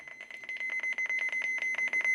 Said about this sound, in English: annoyingly loud button beeps, annoyingly loud and high pitched